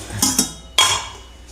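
A knife clacks against a board while cutting chatti pathiri, a layered pastry, in a canteen: two quick taps, then a sharper chop, close and alone.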